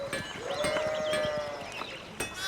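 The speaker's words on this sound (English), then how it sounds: "Oh, that's a lot of sheep, goats, things." Sheep and goats bleat in a medieval village setting, a few overlapping calls close by with one long sustained bleat in the middle, with no talk.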